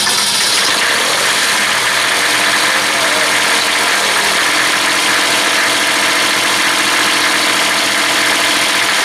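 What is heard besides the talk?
old tractor diesel engine idling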